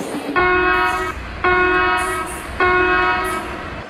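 An Indian Railways locomotive sounds three short, loud horn blasts in steady succession, each a harsh multi-tone honk, close by with no talking.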